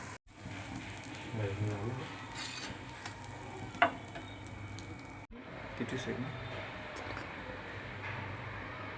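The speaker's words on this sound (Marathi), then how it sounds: "आता मी यात पुन्हा तूप टाकले आहे आणि हा पराठा याच्यावर असा टाकून घेते आणि हा पण त्याचप्रमाणे छान भाजून घ्यायचा आहे" Paneer paratha frying in ghee on a hot griddle gives a steady close sizzle with soft stirring and scraping, plus one sharp clink midway.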